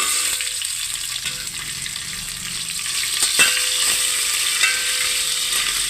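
Urad dal, curry leaves and onion crackle and fry in hot oil, a steady close sizzle with a few sharp pops and scraping stirs partway through; no one speaks.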